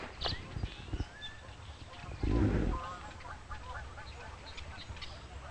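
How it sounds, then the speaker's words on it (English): Canada geese call in a California park with a few scattered honks and clucks amid quiet outdoor ambience, one louder burst near the middle, moderately distant. "Canadian geese."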